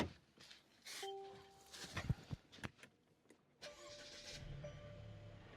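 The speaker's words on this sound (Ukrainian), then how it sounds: "А тепер заводимо автомобіль донор." A few clicks and clunks, then a donor car's engine cranks and catches for a jump-start, settling into a steady running hum.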